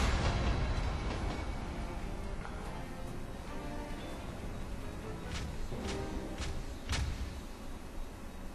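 A train in the video game Batman: Arkham City rumbles steadily, loud and close. A few sharp metallic clanks cut through the low roar, with no talk.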